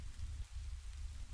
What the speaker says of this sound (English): I like the rain, even if it is artificial.